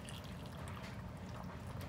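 Water and sugar syrup poured into a canning jar of peaches makes a faint, close trickle and splash that runs continuously for a couple of seconds, with no speech.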